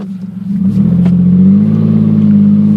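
A car engine revs up while driving, starting with a low idle rumble that climbs into a loud, sustained drone and holds at steady revs, close and with no talk.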